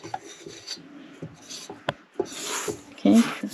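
A spatula scrapes butter and flour mixture off the side of a mixing bowl for vanilla cake, giving short rasping strokes in an uneven rhythm, close and fairly quiet, with occasional knocks.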